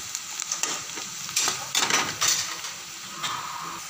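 Onion and chili tempering in hot oil, a steady close sizzle broken by bursts of stirring and the scrape of a spoon against the pan.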